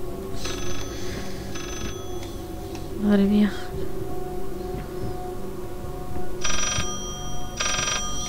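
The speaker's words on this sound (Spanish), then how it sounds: "¿Qué teléfono que hace ahí el móvil?" A mobile phone ringtone in a video game plays in short repeated bursts, pausing between rings, with a brief spoken exclamation and background game noise.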